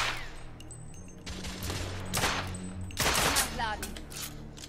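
Gunfire in the video game The Order: 1886, a few sharp bursts of shots cracking in quick clusters over a low ambient bed, fairly close and loud.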